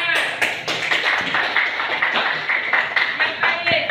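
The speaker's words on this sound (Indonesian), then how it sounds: "Oke, tepuk tangan." Clapping from a school group, a fairly close, uneven patter of hands with distinct sharp taps standing out, with some voices heard over it.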